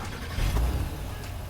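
A 2022 Acura MDX's naturally aspirated 3.5-liter V6 runs with a low, smooth hum that swells briefly in a mild rev, heard fairly quietly on its own.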